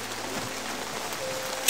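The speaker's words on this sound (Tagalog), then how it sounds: "Sobrang ulan dito mga tol." Heavy rain pours down steadily in a close, even wash of noise with no voices, ending in a brief louder burst.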